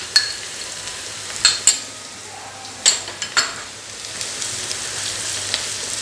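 Ginger garlic paste fries with curry leaves in a pan for Andhra fish curry, giving a steady close sizzle broken by a few sharp spoon scrapes and clinks.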